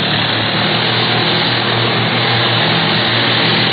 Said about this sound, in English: Turn her over and let's head right back in the prop of that pursuit plane